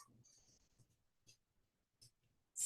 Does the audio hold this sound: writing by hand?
yes